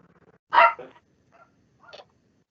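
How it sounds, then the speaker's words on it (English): A dog barks once loudly and sharply nearby, followed by a softer yip and a couple of faint whimpering barks, all against a quiet room background. "dog."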